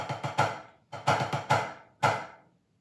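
Crisp sticks strike a practice pad in short groups, some strokes louder than others, ringing briefly before a pause.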